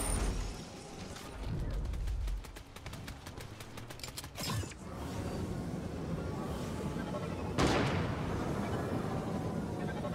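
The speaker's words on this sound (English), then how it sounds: "He was pushing me with a shotgun." Shotgun blasts in Fortnite, with sharp loud bangs near the middle and end among rapid mechanical clicks and rattles, with some talk.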